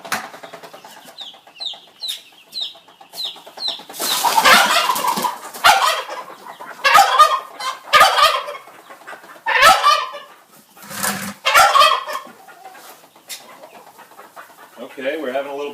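Homestead chickens peck at kitchen scraps of scrambled eggs, beans, apples and eggshells, letting out close, repeated clucks and short squawks in uneven bursts, with a person's voice speaking briefly among them.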